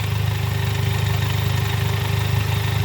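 A car engine runs steadily in second gear during a bench test of a seven-speed DSG gearbox with clutch trouble, a loud, even, low droning hum with no break.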